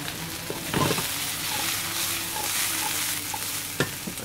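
Sliced onions, bell pepper and olives frying in a pan for duck breast with Roquefort, a loud continuous sizzle with a few stirring scrapes and knocks, heard close and alone.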